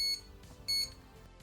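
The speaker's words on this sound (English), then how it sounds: "We can also control when the beeping starts and when it transitions into a solid tone" ESP32 backup sensor sounds its obstacle warning as two short, piercing electronic beeps about half a second apart, clear and close with little else around.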